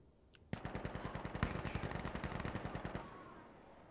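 Automatic gunfire in Insurgency Sandstorm, a close, loud, rapid burst of about twenty-five evenly spaced shots lasting roughly two and a half seconds, then a fading echo.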